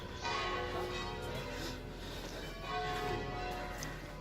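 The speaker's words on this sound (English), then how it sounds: "the bells were ringing as I got to this point" Church bells in Vernazza, Cinque Terre, ring steadily with sustained, overlapping tones that blend into a continuous resonant wash, moderately loud and with no talking.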